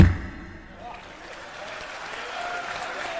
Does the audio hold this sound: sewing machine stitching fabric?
no